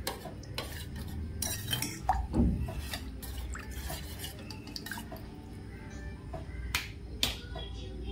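A spoon stirs kheer with dry fruits and milk in a pot, giving quiet, irregular clinks and scrapes of metal against the vessel, with a few sharper taps.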